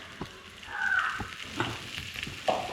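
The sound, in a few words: stirring squid thoran with spice masala in a pan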